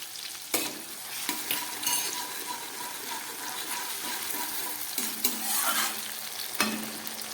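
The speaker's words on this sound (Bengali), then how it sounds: "আদা দিয়ে ভালো করে কষিয়ে নিলাম" Tomato, peas and ginger paste sizzle in a pan while a spatula scrapes and stirs in repeated strokes, with a steady frying hiss throughout and no talk.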